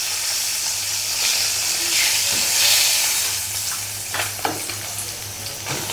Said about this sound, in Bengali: মাছ ভাজা হয়ে গেছে, এখন উঠিয়ে ফেলতেছি।